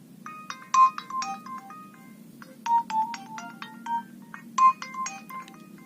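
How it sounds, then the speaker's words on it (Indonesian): Classic Nokia 2600 incoming-call ringtone playing as a bright synthesized melody, repeated short tonal phrases in bursts, clear and alone over a faint low hum. "Kalau nada dering ini merupakan nada yang dipakai untuk nada dering panggilan biasanya"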